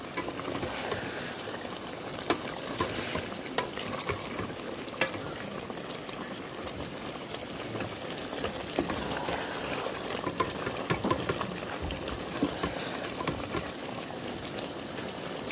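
Chicken and potato curry bubbles softly inside a rice cooker, a steady low simmer with faint patters and small pops throughout.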